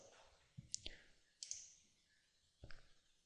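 Computer mouse clicks on a Windows 7 PC, a few sharp, crisp clicks spaced irregularly, close and fairly quiet against a low background.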